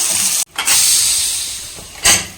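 Steam bursts with a loud, broad hiss from a pressure cooker of mutton as its lid is opened, a short gap, then a steady rush that slowly fades before a second sharp hiss near the end.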